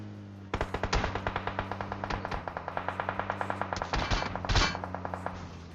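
Rapid automatic gunfire rattles in a steady, sustained burst over a humming background, loud and close, with a few heavier shots near the end, in the game PUBG.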